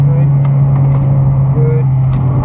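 A race car engine drones steadily at the Broadford race track, a loud, constant low hum heard from inside the car while a voice speaks over it.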